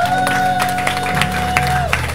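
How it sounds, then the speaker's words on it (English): A church congregation applauds at a Mother's Day service, a steady wash of many hands clapping with scattered crowd noise, while sustained music tones carry on underneath. "Y'all give yourselves a hand one more time."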